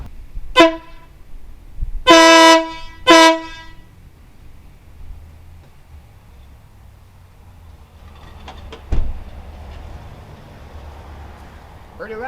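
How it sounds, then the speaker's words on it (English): A Wolo Big Bad Max air horn mounted on a bike gives three loud blasts, a short toot then two longer ones, followed by quiet idle background. "we're going to blow the horn."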